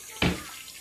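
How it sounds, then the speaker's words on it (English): Short burst of water sputtering from a household tap after the water heater is switched on, a single splashy gush lasting a fraction of a second at moderate distance. "after about a few minutes of nothing but air coming out, hot water. Well, not hot water, but water got it coming out."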